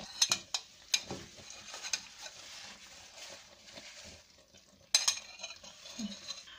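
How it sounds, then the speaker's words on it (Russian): A plate is lifted off a pot of lenten Armenian tolma in a home kitchen, with light clinks and taps of ceramic against metal, a few sharp knocks among soft scraping and faint background hiss. "Сниму вот эту тарелочку."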